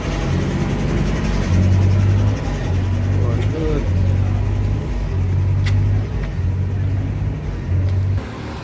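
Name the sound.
state transport (ST) bus driving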